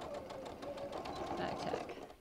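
Sewing machine running steadily as it stitches and pivots to close the last inch of a small fabric bean bag, a continuous motor whir throughout, with a voice talking faintly underneath.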